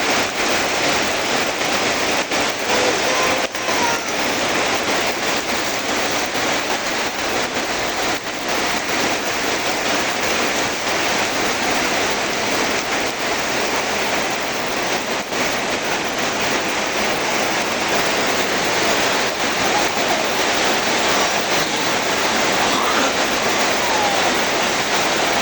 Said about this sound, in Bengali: এত জোরে বৃষ্টি পড়তেছে।